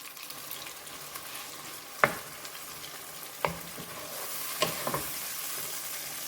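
Onions and seasonings sauteing in a pan for Guyanese shine rice, a steady low sizzle with a few sharp stirring scrapes of a spoon against the pan, close and fairly quiet, no talking.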